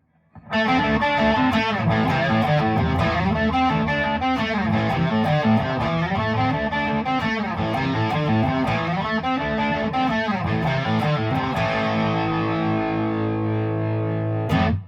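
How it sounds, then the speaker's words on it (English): A distorted electric guitar riff, thick and saturated, plays continuously and loud for the whole stretch, ending on a held chord. "Now let's turn the distortion on."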